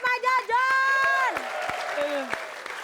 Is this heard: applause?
yes